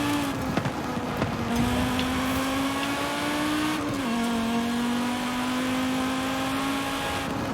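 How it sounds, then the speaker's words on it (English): A Nissan Safari with a straight-five engine in Forza Horizon 5 holds a steady, buzzy drone with small rises and dips in pitch, a brief lift near the start and again midway, continuous and close with no talking. "a straight 5 is a really cool engine"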